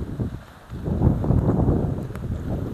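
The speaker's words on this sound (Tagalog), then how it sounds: "Oh, lakas pa yung hampas ng hangin dito." Strong gusts of wind buffet the microphone in a loud, rumbling roar that swells after a brief lull and keeps blowing steadily.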